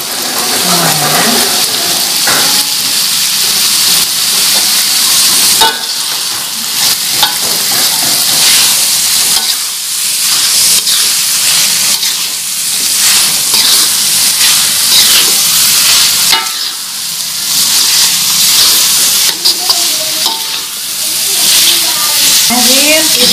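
Potatoes sizzle loudly in hot oil while being stirred in a pan for Indonesian sambal goreng kentang with chicken liver, gizzard and petai. The frying hiss is steady and close, broken by stirring scrapes throughout.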